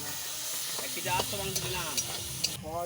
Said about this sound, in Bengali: কষাকষি হচ্ছে এখন মশলা।